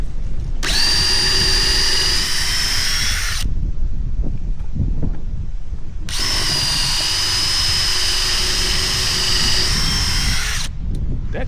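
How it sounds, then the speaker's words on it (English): Power drill boring into old fence wood, loud and near in two long runs of a steady high whine with a brief pause between. No voices over the drilling. "that drilled a whole lot easier than I expected"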